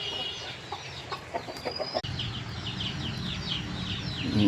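Hens cluck repeatedly in short, chattering bursts, with a rooster among them, close by over a low background rumble.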